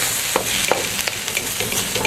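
Vegetables for restaurant-style vegetable fried rice stir-fry in a hot pan, a loud close sizzle punctuated by quick scrapes and tosses every few tenths of a second.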